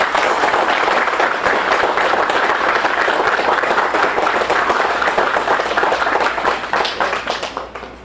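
Sustained applause from a crowd at a fire department and EMS open house dedication, dense steady clapping throughout that starts to thin out toward the end.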